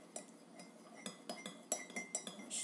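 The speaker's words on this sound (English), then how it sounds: "Stir up here a little bit." A metal spoon stirs tea in a cup, sweetened with honey, giving a run of light, irregular clinks against the sides, close and fairly quiet over a faint background hum.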